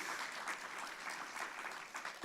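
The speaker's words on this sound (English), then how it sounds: "Round of applause for that, that's great." An audience at a food and nutrition forum in Georgia clapping, a brief, faint spatter of applause that rises slightly at the end.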